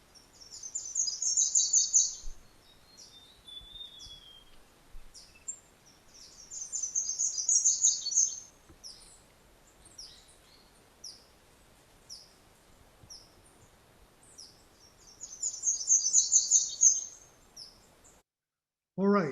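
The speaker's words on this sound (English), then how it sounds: "let's take a listen to the slate-throated redstart" A slate-throated redstart in southeastern Arizona sings three separate high, twittering phrases spaced several seconds apart, crisp and fairly close against a quiet background.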